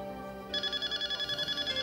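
A phone starts ringing partway through, a bright repeating electronic ringtone pulsing steadily over a quiet background.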